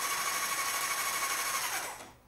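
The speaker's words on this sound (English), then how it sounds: "That would be a really slow idle on a Model T Ford." Valve train of a Model T Ford engine ticking at a very slow idle, a fast steady mechanical clatter heard close up that winds down and fades out near the end.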